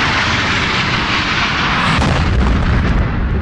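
A recording of the 9/11 attacks, played over a radio broadcast: a dense, continuous roar with a rumbling, explosive, aircraft-like wash that holds steady loud throughout, with no talk.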